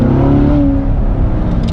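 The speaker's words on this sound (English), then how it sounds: "We're gonna head up to the canyons here and see how this Corvette drives" A 2016 Chevrolet Corvette C7 Stingray drives toward the canyons, its engine droning loud and close with a rising then settling pitch, steady road roar underneath and no voices.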